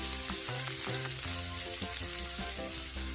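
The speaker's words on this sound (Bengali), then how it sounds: "পটলের যে মাছের অংশটা আমি পুড়ে রেখেছিলাম এটা আমি তেলের মধ্যে দিয়ে ভেজে নেব" Pointed gourd (potol) frying in hot oil: a constant sizzling hiss under clinking and tapping from stirring in the pan, moderately quiet and steady, with no talking.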